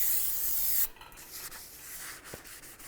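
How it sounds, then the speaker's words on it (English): Parts cleaner spraying onto a Hyundai Elantra rear brake rotor, then a rag rubbing and wiping the oily surface, close-up hiss followed by soft scrubbing strokes. "You want to make sure you clean that down with some parts cleaner."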